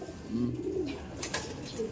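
Young pigeons in a breeder's loft, producing low rolling coos close by, a couple of drawn-out notes with faint chatter in the background.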